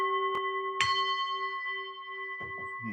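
A bell is struck three times, each ring leaving a long, bright sustained tone that hangs between strikes; faint knocks accompany the later strikes.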